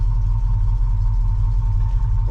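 A 1976 Ford F150 with a 418FE stroker engine idles roughly right up close, a loud, steady low rumble with an uneven, lumpy pulse throughout and no talking over it.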